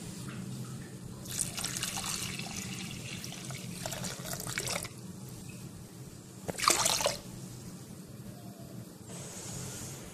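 Water pours into a pan of lady's finger curry before boiling, heard as a few close splashing bursts of pouring liquid over a low steady background, with quiet gaps between pours.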